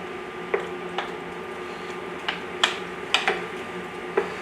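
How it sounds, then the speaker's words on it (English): Tomatoes dropping into a hot pan of softened onions for marinara sauce: a low steady sizzle with several sharp, wet plops and clicks spaced irregularly, some in quick pairs. "All we got to do is put our tomatoes in."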